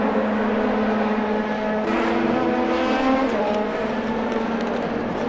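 The number 14 Koseki Bishu race car runs in qualifying for the Le Mans 5 Hours, with a loud, sustained engine whine that shifts pitch as the car accelerates and other cars hum alongside.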